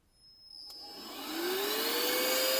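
A Mioji AD72 cordless air blower, rated at 46,000 RPM, whirs up from a click into a steady high-pitched rushing whine at maximum speed, rising in pitch and loudness over the first seconds, then holding, close up with no talk.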